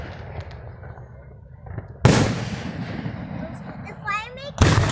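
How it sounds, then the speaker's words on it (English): Crackler fireworks at a Duck Lake display go off in two loud sharp bursts, each trailing into a fizzing crackle, with voices faintly in the background. "It's a crackler."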